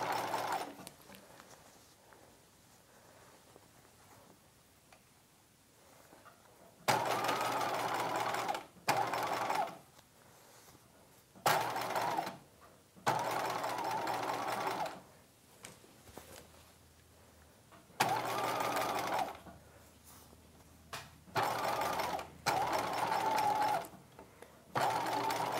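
A domestic sewing machine understitches a seam with darker green thread in repeated bursts of rapid whirring stitching, separated by quiet pauses, loud and close.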